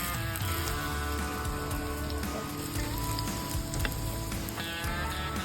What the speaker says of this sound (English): we heat oil in a pan and we fry the meatballs until golden brown